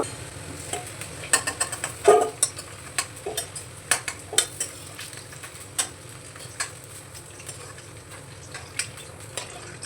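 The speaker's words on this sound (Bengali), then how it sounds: "এখন কেটে রাখা আলুটা দিয়ে দেব পরিমাণ মতো লবণ, 1 চামচ দিচ্ছি হলুদ গুঁড়ো। আলুটা ভালো করে ভেজে নেব।" Cut potatoes with salt and turmeric frying in hot oil in a wok: a steady soft sizzle runs throughout, broken by frequent clicks and scrapes of a spatula stirring, with no talking.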